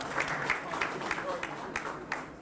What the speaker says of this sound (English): Let's give everybody a round of applause for their hard work.